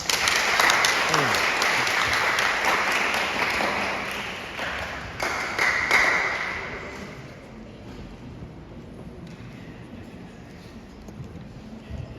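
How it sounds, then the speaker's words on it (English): An audience at a basic schools science, mathematics and technology quiz in Ekumfi claps in a dense burst that swells, then gradually thins into scattered, fading claps. "Clap."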